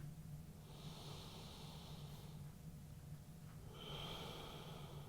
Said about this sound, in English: One more breath here.